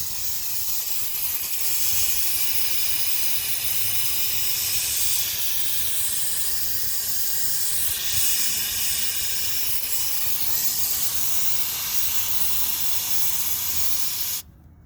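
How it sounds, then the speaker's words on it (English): A steady, loud hiss of propane venting from an overfilled RV tank's overflow valve, a continuous rushing spray that holds for about fourteen seconds before cutting off abruptly. "I had to vent all that propane out using the overflow valve"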